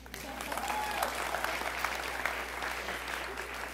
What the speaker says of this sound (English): So clap your hands if you want that.